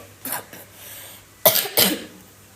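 A person with a cough, indoors at home, coughs once, then twice more after a pause: short, harsh, close bursts.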